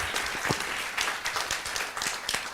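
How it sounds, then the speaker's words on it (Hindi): Audience applause for Vinay bhai, co-maker of the short film Overthinking, at a motivational talk: a dense burst of many hands clapping close and steady, with a few louder individual claps standing out. "विनय भाई के लिए तालियां बजा दो यार"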